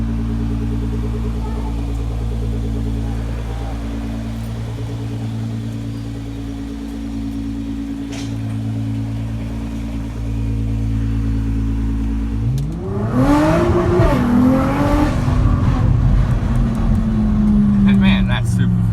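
A Nissan GT-R sports car accelerates hard, its engine note rising sharply in a loud roar after a long stretch of steady, droning cabin engine hum, with people talking throughout.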